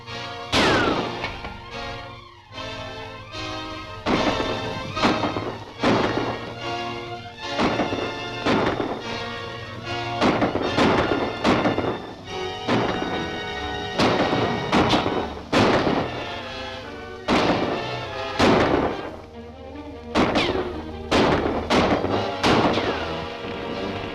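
Loud, rapid gunshots ring out in a movie-serial shootout, coming in repeated bursts over dramatic orchestral music.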